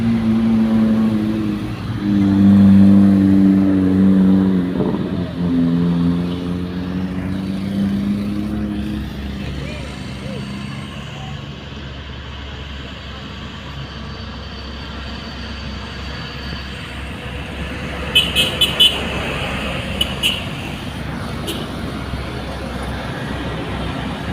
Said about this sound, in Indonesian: Satu trailer mencoba naik.